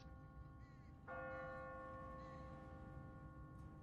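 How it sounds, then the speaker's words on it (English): A single church bell strikes once, on an automatic timer in a small town, and its tone rings on and slowly fades over a low steady background rumble. "What kind of church bell goes off at 20 past the hour?"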